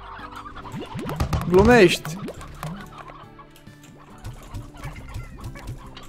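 Slime Rancher hens cluck and squawk in the game, a burst of rising fowl calls peaking early, then scattered softer clucks over background game sounds, with a person briefly speaking.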